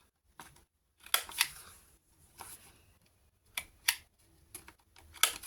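Scissors trimming and rounding the ends of paper for a junk journal page: a series of sharp, close snips in small clusters, alone with no talk, fairly quiet overall.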